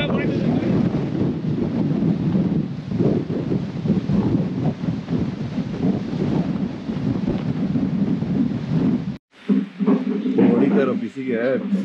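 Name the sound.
strong wind blowing into the microphone at a hill station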